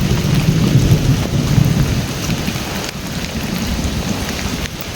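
Steady, loud rain pours down in a rural village, a dense continuous hiss of drops striking surfaces nearby, with a low rumble like distant thunder underneath and no voices.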